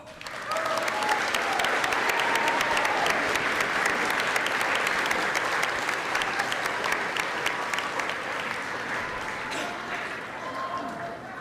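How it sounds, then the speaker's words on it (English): A graduating class of 2026 stands at their high school graduation ceremony and applauds their families, a large crowd clapping loudly and steadily for about eleven seconds with faint voices mixed in. "Class of 2026, please stand, face your families, and give them a round of applause"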